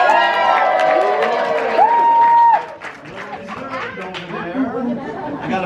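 Crowd cheering at an outdoor lumberjack games show, with loud whoops and a sustained shout rising over chatter, then dropping to a livelier murmur of voices.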